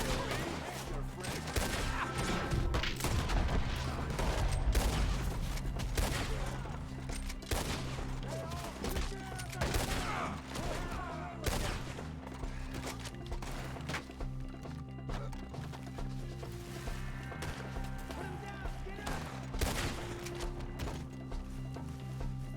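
Rapid volleys of gunfire crackle through a Red Dead Redemption 2 shootout, bursts overlapping with hoofbeats and game music, a steady dense barrage across the whole stretch with occasional louder cracks.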